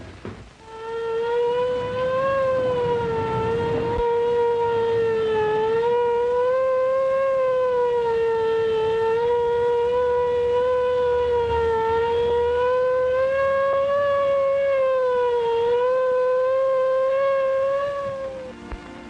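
A loud wailing ambulance siren rises and falls in slow, long sweeps, sustained without pause for nearly twenty seconds.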